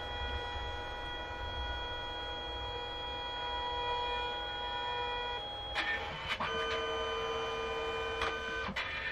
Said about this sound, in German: Jetzt fängt der Drucker an, die Daten zu verarbeiten. Es kommen ein paar kleine Geräusche hier raus.